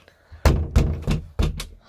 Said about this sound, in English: Giddy, bang the door down.